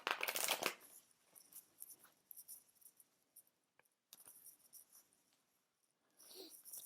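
Tarot cards are shuffled by hand at a reading, soft intermittent riffling and sliding bursts, a louder flurry at the start and another near the end, quiet gaps between, no talking.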